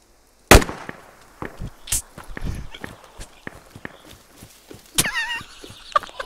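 A single sharp gunshot cracks in the video game Squad, followed by scattered footsteps, thuds and a later burst of distant noise, with brief voice activity.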